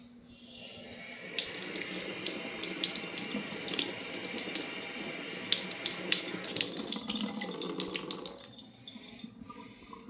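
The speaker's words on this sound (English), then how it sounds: "I'm going to rinse it off" Tap water runs steadily into a sink while a coin is rinsed beneath it, with a close, continuous splashing rush and scattered drips that grow choppier near the end.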